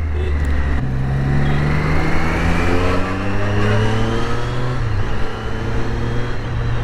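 A Triumph Street Triple RS three-cylinder motorcycle engine revs hard and accelerates, its loud, rising snarl climbing steadily through the gears with no talk over it.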